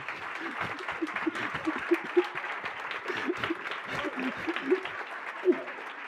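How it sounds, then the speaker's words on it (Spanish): A crowd applauds with steady, dense clapping that carries on for several seconds, with a voice audible briefly beneath it. "Gracias por ese forzado aplauso."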